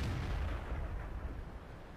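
A heavy, muffled tank cannon impact in World of Tanks rolls out as a low rumbling boom that fades slowly, with no voices.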